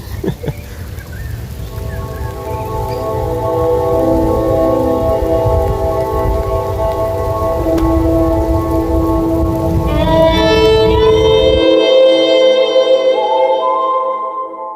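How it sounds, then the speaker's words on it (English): Steady spring rain in Australia patters close by while sustained melodic tones play over it; the rain cuts off near the end, leaving only the tones. "Not sure if you can tell, but it is raining."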